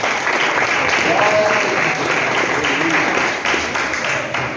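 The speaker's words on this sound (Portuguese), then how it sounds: "Louve ao Senhor com as palmas de alegria." Sustained applause from a church congregation at a family worship service, a dense steady wash of many hands clapping together with a voice speaking over it.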